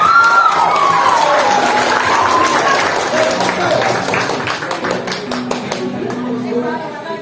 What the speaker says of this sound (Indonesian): Boleh tepuk tangan untuk teman-teman kostum